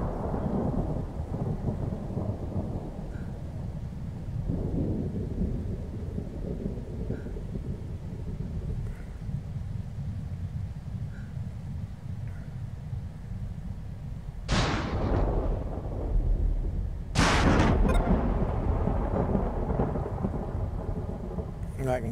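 Thunderstorm in Planetbase: steady rain and rumbling runs throughout, broken by two sharp, loud lightning cracks near the end, the second followed by a rolling boom.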